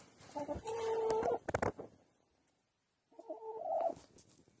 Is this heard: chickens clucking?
yes